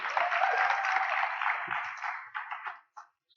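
An event audience applauds after a name is announced at an awards gathering, a steady wash of clapping that thins into scattered claps and fades out near the end.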